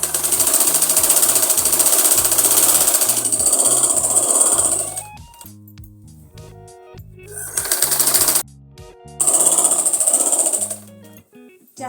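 A sewing machine stitches Afghani salwar fabric in loud, close bursts of rapid mechanical clatter, separated by short pauses with quieter thumping.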